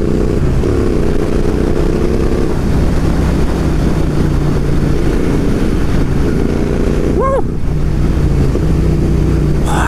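Royal Enfield Interceptor 650 riding with its engine and aftermarket exhaust pipes, a loud steady rumbling drone throughout with heavy wind buffeting, and a brief rising tone near the end.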